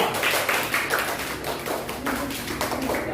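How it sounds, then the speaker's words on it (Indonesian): Classroom applause for a student group after their presentation, a dense, steady patter of many hands clapping close by for about three seconds, with no talk over it. "Beri aplaus untuk kelompok 2"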